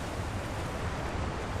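A waterfall in Elden Ring: Shadow of the Erdtree roars as a steady, dense rush of falling water, loud and continuous with no breaks or voices.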